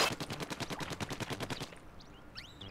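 Rapid ink-gun fire in the Splatoon story mode, a fast burst of about fifteen evenly spaced shots lasting under two seconds, loud and close, followed by quieter scattered game effects.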